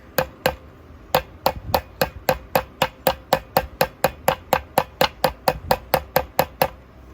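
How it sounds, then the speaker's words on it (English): Sharp metallic hammer taps on a part of a Husqvarna 61 Rancher chainsaw, about twenty in a steady rhythm, close and fairly loud, with short pauses early on before settling into even strikes. "we'll take my little hammer"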